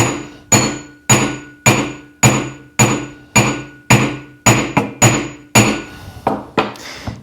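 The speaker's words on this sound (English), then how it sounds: "the ring is coming further down the mandrel with every different hammer mark I make." A silver ring struck with a metal hammer on a steel mandrel, about a dozen sharp, ringing close-up blows at a steady pace, each tap leaving a short metallic ring, with a few quicker lighter taps toward the end.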